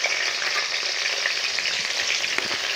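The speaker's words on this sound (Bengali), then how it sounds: "আমি পটলগুলো ছেড়ে দেবো।" Pointed gourd (potol) frying in hot oil sends up a loud, continuous close sizzle with faint crackles and stirring ticks, unbroken by speech.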